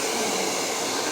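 A salon hair blower dries hair during a rebonding treatment, giving a loud, steady, close-up whoosh that holds evenly through the short moment.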